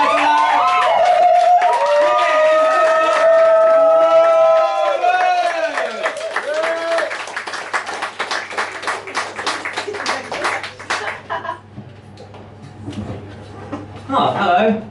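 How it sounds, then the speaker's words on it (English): A comedy club audience whoops and cheers loudly, then breaks into scattered applause that thins out and fades, with a voice speaking over the tail end. "let's milk this applause, let's start it up at the front row, keep it nice and loud"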